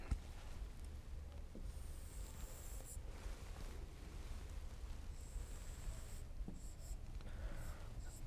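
A pen or pencil scratches across paper while a trigonometric function graph is drawn by hand, giving quiet continuous scratching strokes with brief pauses, close up and faint.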